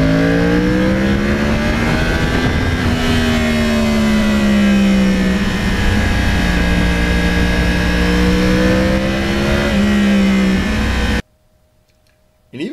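A 2009 Yamaha R1 crossplane sport bike is ridden through quiet residential estates in Kinnelon, its loud engine rising and falling through revs and gear changes close up, before cutting to near silence at the end.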